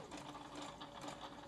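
Sewing machine stitching down the collar of a handmade yukata, heard as a steady, close, rapid mechanical whir.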